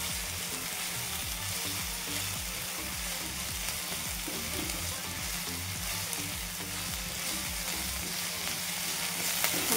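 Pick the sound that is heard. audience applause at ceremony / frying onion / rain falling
frying onion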